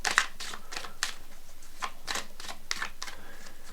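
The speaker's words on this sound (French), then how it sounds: "Je bats les cartes." A deck of tarot cards is shuffled by hand in a quick, regular riffling rhythm of soft papery bursts, close and fairly quiet, with no talking.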